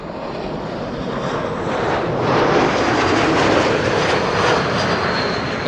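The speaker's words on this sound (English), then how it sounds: "Citation that is flying on the glide slope to 36 right" A Cessna Citation jet flies the glide slope toward runway 36 Right at Amsterdam Schiphol on a sunny day, a broad continuous roar that swells gradually as it passes, with light wind noise on the microphone.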